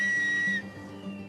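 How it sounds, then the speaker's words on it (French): A single sustained whistle in the Silbo Gomero whistled language of the Canary Islands, the greeting for hello, clear and close, holding a steady pitch for about half a second before it stops abruptly. "Ce langage, c'est le silbo. Si vous entendez par exemple ce sifflement,"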